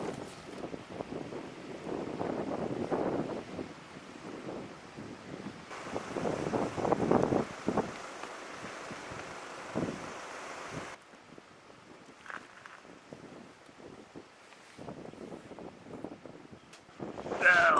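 Gusty winter wind in Scotland buffets a microphone in rough, uneven surges, sometimes loud and blustery, sometimes easing, with occasional faint voices underneath.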